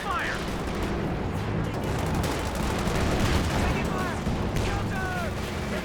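Continuous gunfire and artillery from a Company of Heroes 2 World War II battle, a dense roar of shots and explosions throughout, with a voice talking over part of it and whistling shell sounds near the end.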